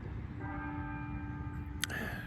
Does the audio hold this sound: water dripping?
no